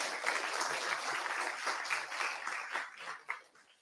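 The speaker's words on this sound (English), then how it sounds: "Let's give a big round of applause." An audience claps at a Building with Nature event, a faint, steady patter of applause that thins out toward the end.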